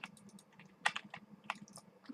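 Quick, light keystrokes clatter on a computer keyboard in short irregular bursts, close and fairly quiet, with no talking.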